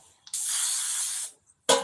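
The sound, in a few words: cooking spray sprayed onto a baking pan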